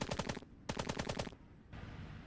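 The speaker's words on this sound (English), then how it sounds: "Just use the machine gun, man." Machine gun fire in the war video game Call to Arms comes as two sharp, rapid bursts of close, loud shots, with softer rumbling gunfire afterward.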